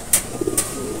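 Racing pigeons return to the loft after a training flight. Two bright, short chirps are followed by soft, low cooing close by.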